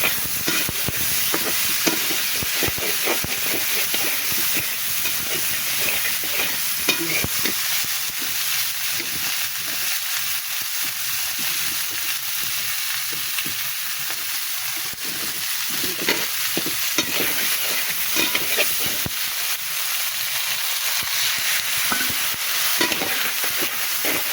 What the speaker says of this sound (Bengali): এবার টমেটোটা কষিয়ে নেব।